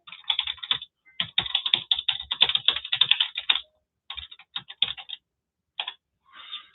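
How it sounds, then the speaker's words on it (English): Keystrokes on a computer keyboard typing into a chat box, close and moderately loud, coming in rapid bursts with short pauses between runs of clicks, no voices. "I'm going to just type something there right now so you can see what I'm talking about."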